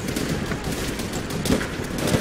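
Enemy gunfire in Call of Duty World at War, shot from behind sandbags: dense rapid bursts of shots crackling without pause, fairly loud, with faint voice underneath.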